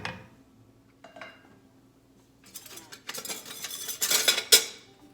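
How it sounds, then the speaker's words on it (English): A whisk stirs flour into French onion soup in a pot. After a few soft taps, metal scrapes and clinks build into loud, brisk swishing near the end. "I'm just kind of stirring that in using my whisk"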